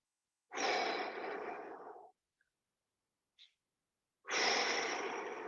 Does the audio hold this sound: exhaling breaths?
yes